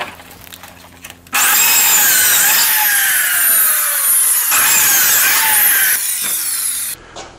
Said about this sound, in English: the plate joiner is inserting the plate perpendicular to the face of the miter